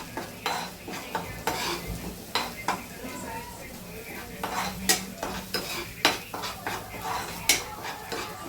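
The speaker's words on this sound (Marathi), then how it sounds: "असा छान परतू घ्यायचा हा मसाला." A spatula scrapes and knocks repeatedly against a pan, close and steady, as a ground masala of onion, garlic, ginger, coconut, curry leaves and spices is sautéed, with a soft hiss of frying underneath.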